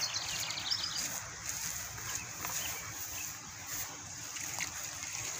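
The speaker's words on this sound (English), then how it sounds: "we're going to pour just a little bit of water in here to just keep it from flying all over the place" Water poured over hay in a strawberry tower, a steady soft trickle and splash that runs close and continuous, with faint birdsong in the background.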